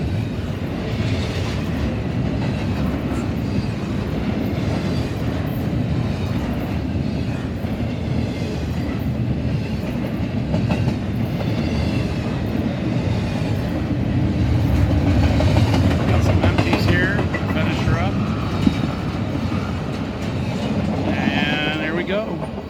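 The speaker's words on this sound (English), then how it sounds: "Got that westbound running wrong main here, heading towards Chicago." A westbound freight train running on the wrong main track at a rail junction, heading toward Chicago: a steady, loud rumble of wheels and cars rolling past for the whole stretch, with a faint horn-like tone near the end.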